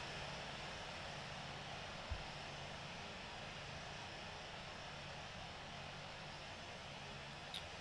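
Emirates A350 engines idling on a taxiway in the Infinite Flight game, a steady faint whooshing engine roar with a low hum, continuous and even throughout, with a brief exclamation from a voice.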